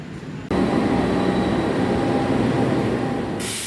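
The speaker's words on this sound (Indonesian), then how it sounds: "yang barusan masuk di belakang saya ini adalah kereta api Senja Utama Solo dari Solo Balapan tujuan akhir Pasar Senen" The Senja Utama Solo passenger train rumbles into Cirebon station, Indonesia, loudly and steadily, a broad continuous roar of rail noise with no talking, holding strong before easing slightly at the end.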